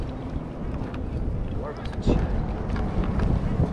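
Kayak paddled across open sea water while out fishing, with steady wind rushing over the microphone and soft strokes and water splashes throughout; a voice talks over the paddling.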